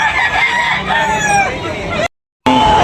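A stag rooster crows loudly and close at a gamefowl sale, a drawn-out call with a brief cut near the end before another short call.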